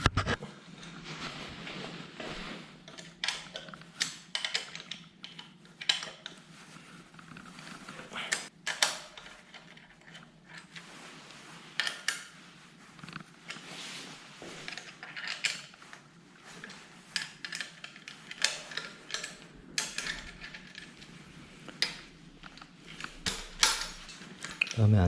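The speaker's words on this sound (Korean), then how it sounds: "이쪽 뭉치 쪽 육각 볼트를 먼저 풀어주고요." Hex bolts loosened on a bicycle handlebar post stem of a folding mini velo: close metallic ticks, creaks and clicks of a tool working the bolt in an irregular stream, with someone talking softly over it.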